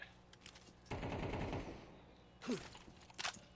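Gunfire in a Counter-Strike match ends in a headshot, with a rapid rattling burst in the middle, a short sharp crack and ricochet-like whine after it, and a few quick shots near the end.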